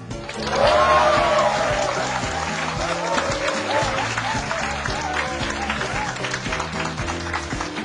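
An audience at an English-language lecture breaks into loud, dense applause that swells in the first second and holds steady as a thick wash of clapping for the rest of the stretch.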